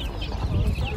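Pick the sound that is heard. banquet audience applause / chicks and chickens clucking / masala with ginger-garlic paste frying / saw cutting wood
chicks and chickens clucking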